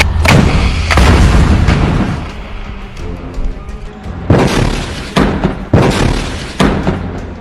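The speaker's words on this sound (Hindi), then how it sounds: "जिसकी वजह से इस टैंक में जोरदार ब्लास्ट होता है।" A rocket strikes a Merkava tank during combat, setting off a heavy blast: several loud, booming explosive thuds with rumbling tails, repeated close together over several seconds, with no voices.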